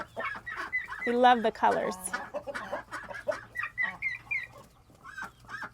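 Young chickens and a rooster cluck and squawk close by in their pen, with excited calls rising and falling while a person talks over them.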